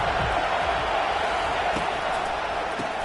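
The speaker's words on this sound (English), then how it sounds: "Here comes this home crowd as the defense tries to get off the field on 3rd down." A home crowd at a Nebraska vs Iowa college football game roars continuously, a dense, loud stadium wall of cheering and noise sustained throughout.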